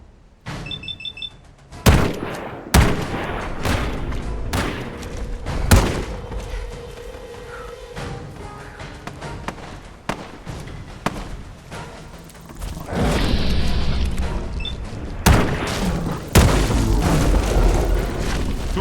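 Gunfire in a post-apocalyptic survival video game: several sharp, loud shots and booming impacts spread through the clip, some in quick pairs, over a busy bed of game effects and rumble.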